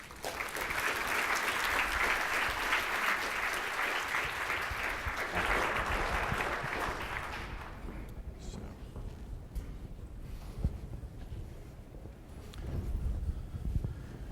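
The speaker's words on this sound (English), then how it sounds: "please join me in welcoming Tom Siebel" A crowd applauds loudly and steadily for several seconds, then the clapping fades out into quiet room noise with a few scattered claps.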